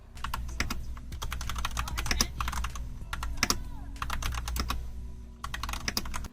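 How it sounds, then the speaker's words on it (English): A chunky-sounding mechanical keyboard clacks close up in bursts of rapid typing separated by brief pauses, keys striking crisply with no one speaking. "if you like a chunkier sounding keyboard"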